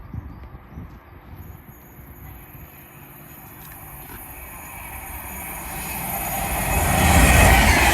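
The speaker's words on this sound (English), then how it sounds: "we've got a Pendolino about to speed through" A Pendolino express train speeds through Tamworth station on the West Coast Main Line, its rumble and roar swelling steadily from faint to loud as it nears and passes close by, with no talk.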